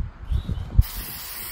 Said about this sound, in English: I'm gonna be spraying the Greek Lizard Arctis pants that match this set